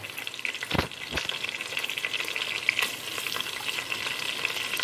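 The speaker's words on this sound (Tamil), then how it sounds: "அந்த ஆயிலில் அந்த கரம் மசாலாவோட அரோமா போகிற வரைக்கும் நம்ம ஃப்ரை பண்ண போகிறோம்" Whole garam masala frying in butter and oil in a pressure cooker, giving a steady close sizzle with a couple of sharp clinks early on.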